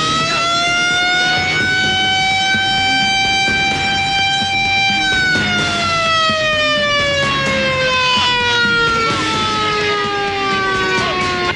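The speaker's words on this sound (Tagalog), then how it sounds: "Yung sirena ba yun? Yung siren." Emergency siren wailing loudly and continuously, its pitch holding steady then sliding down in a long sweep, close and dominant throughout with no talk over it.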